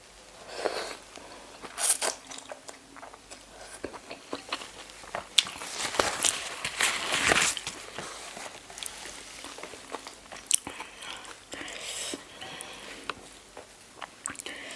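Someone eats rice noodles with fermented fish sauce, giving close, irregular wet chewing and soft crunching bites spread through the clip with no talking.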